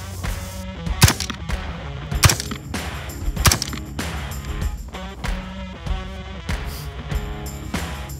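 Pistol shots during a shooting test ring out as a series of sharp, loud cracks at uneven intervals, about a dozen over several seconds, each cutting through a steady tonal background of music.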